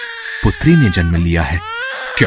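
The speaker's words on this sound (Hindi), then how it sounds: "अरे ये तो बच्चे के रोने की आवाज है।" A newborn girl cries in a dramatized devotional tale of Devaki giving birth: a short, wavering infant wail rises up loudly, then gives way to a voice speaking.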